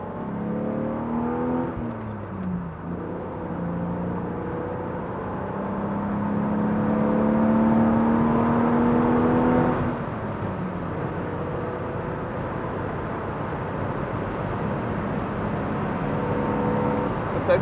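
A 1990s BMW roadster engine accelerating hard on a four-lane highway, revving up through the gear with a rising, steady drone that climbs, peaks, then drops as it shifts before pulling again, with no talking.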